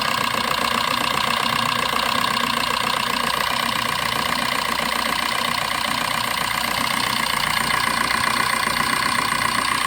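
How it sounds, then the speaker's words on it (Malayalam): A car engine idles steadily with a rough, heavy vibrating rattle, loud and close, continuing unchanged throughout without speech. "ഇതാണ് വണ്ടിയുടെ സൗണ്ട്. എഞ്ചിൻ ഭയങ്കര വൈബ്രേഷനാണ്"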